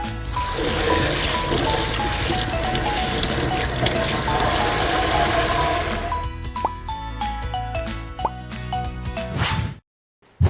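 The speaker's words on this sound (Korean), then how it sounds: "오징어를 흐르는 물에 세척해 주세요" A whole squid is rinsed under a running kitchen tap after skinning. A steady, close splashing rush of water lasts about six seconds, then eases into scattered drips and plops before falling silent.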